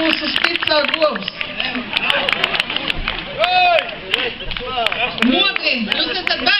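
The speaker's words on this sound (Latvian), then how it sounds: "Aplausi Bērzaunes govju parādei!" A crowd claps for a cow parade at a summer village festival in Bērzaune, Latvia, with scattered sharp claps running steadily under a loud voice talking over a PA.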